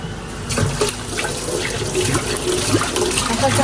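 Running tap water splashing as hands are washed under it, a steady close rush with small splashy changes and no talking.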